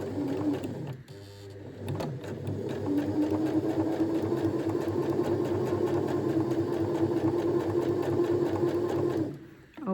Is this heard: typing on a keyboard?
no